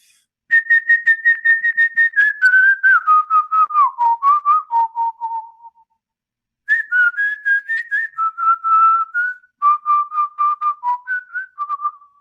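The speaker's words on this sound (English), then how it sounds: "So a whistling Ikaro is" A single person whistles an icaro healing song, melodic and pulsing, in two phrases, each stepping down in pitch, clear and close with a short pause between.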